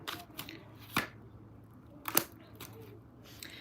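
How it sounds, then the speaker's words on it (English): Tarot cards being shuffled in a quiet room: a few short, crisp riffling bursts spaced irregularly, close and fairly soft. "One more shuffle."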